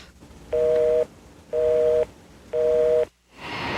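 Telephone busy signal from overloaded airline phone lines: three evenly spaced, loud two-tone beeps, each about half a second long, with short silences between them and no talk.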